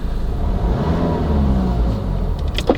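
A Range Rover Evoque Convertible's 2-litre Ingenium four-cylinder diesel drones steadily with a low, gruff rumble while driving with the window partly down, loud and close, with a brief higher whine near the end.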